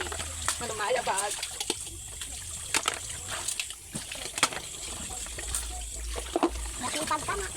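Muddy water runs from a tap while dishes are washed after a night of rain, with splashes and trickles that come and go. People chat in the foreground throughout.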